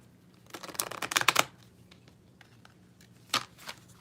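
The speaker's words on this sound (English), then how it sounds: "Let's do a good shuffle in here." Tarot cards shuffled by hand in a close, crisp flurry of riffling and slapping that lasts about a second, then a short second burst after a pause.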